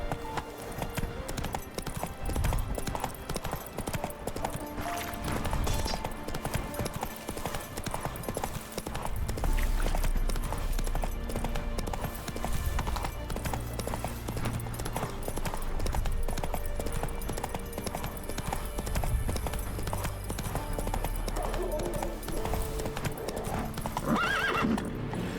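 Roach the horse gallops in The Witcher 3 video game, a steady drumming of hooves with occasional whinnies over game music, continuing throughout without pause.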